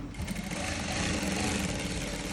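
A sewing machine runs steadily while stitching dhoti pants, a continuous close mechanical whir with no pauses.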